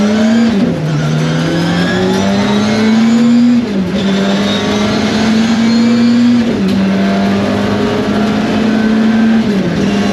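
A 525+ bhp Ford Sierra RS500 Cosworth race car engine revs loud and close, holding a sustained drone with repeated dips and climbs in pitch across gear changes.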